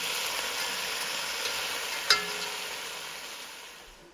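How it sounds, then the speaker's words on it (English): Beef sears in batches in a hot pan, giving a steady bright sizzle with one brief stir or clink midway, the hiss fading slightly toward the end. "Searing that beef in batches helps build the fond."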